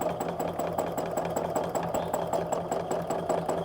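Home sewing machine quilting a heart border along a stencil line, a steady, fast mechanical chatter of needle strokes with a low motor hum, running continuously at close range with no talking.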